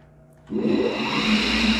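After a quiet hum, a tool grinder's wheel head motor switches on and spins up into a steady whirring drone for endmill grinding, holding for the rest of the moment.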